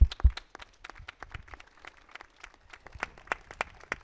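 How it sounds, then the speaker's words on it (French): An audience applauds at an urban talks event in France, a light, thin patter of scattered claps that stays fairly quiet and sparse over a few seconds, heard from a distance without voices. "Merci beaucoup Stécie Algrin qu'on va applaudir aussi pour votre témoignage"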